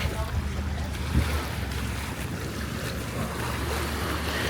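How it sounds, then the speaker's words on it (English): Boat engines hum over the water off Coron, Philippines, amid wind buffeting and lapping waves, a steady outdoor wash of noise. "the boats are starting to arrive a bit more now."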